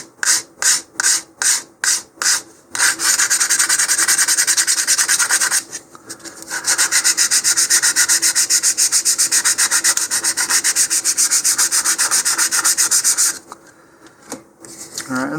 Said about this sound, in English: I'm going to use some 150 grit sandpaper here initially.